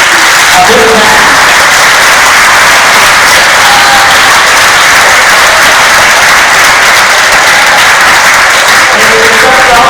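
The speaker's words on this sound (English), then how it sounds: "we must give them a loud applause and a big hand" Loud, sustained audience applause from schoolchildren, teachers and parents after a leadership speaker session at an international school, a dense wash of clapping with faint voices mixed in, steady for the whole stretch.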